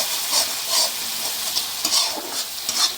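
Ginger-garlic paste fries with chili, toasted coriander and spices in a pan, a constant hissing sizzle broken by rhythmic scraping stirs every half second or so, close up with no voices.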